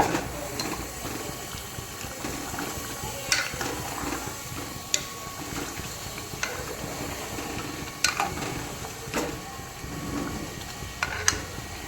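Spices being stirred into an onion and tomato curry for a Kathiyawadi whole-onion shaak in a pan, a soft continuous sizzle with repeated sharp clicks and scrapes of a spoon against metal, close and fairly quiet.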